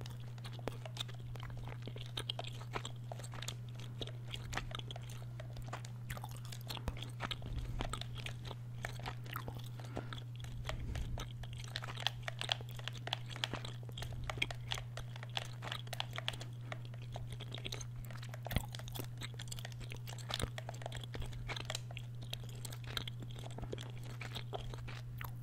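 Gum chews close to the microphone during a Fortnite gaming session, soft wet crunching and smacking repeating steadily over a long stretch, mixed with light controller or keyboard clicks over a constant low hum.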